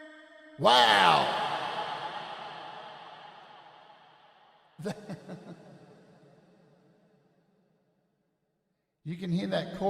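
Three bursts of sound processed through a GhostChorus choral reverb on iOS, each striking sharply then trailing off in a long shimmering chorus-like wash that fades over several seconds, the first loudest, with no talking.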